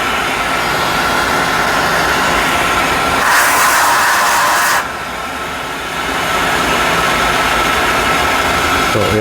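A Mazak Smooth G CNC mill spindle turns at about 2,500 RPM while milling and chamfering, giving a steady loud machine drone with a brighter hissing stretch partway through, then a slightly quieter hum before the drone resumes.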